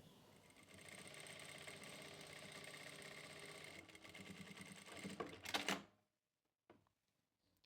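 A sewing machine stitches a palazzo pant pocket in one continuous whirring run of about five seconds, speeding up briefly near the end before stopping abruptly, followed by near silence and a single faint click.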